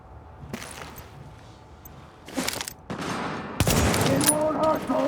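Gunfire in Tom Clancy's The Division: scattered shots, then bursts of automatic fire that build into a sustained loud volley, with a voice faintly under the shooting.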